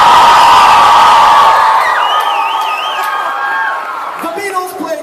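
A huge crowd of Beatles fans screams and cheers in one loud, sustained roar that slowly fades, with higher shrieks and whoops rising near the end.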